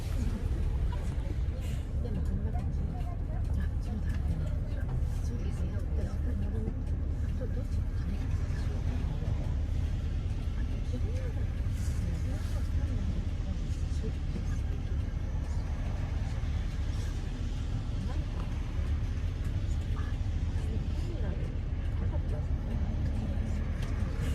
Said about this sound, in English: This is the bus going to airport shuttle.